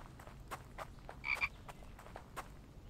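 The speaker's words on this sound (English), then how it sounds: "There's a frog." A frog croaking in The Infected video game, a handful of short, clicky croaks spaced irregularly, with one louder, more tonal call in the middle against a quiet outdoor background.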